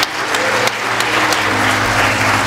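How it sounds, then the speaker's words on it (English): A church congregation claps for the Beth Eden Choir at a spring musical, a loud, continuous burst of close applause filling the room with no pauses. "Come on, let's clap for them"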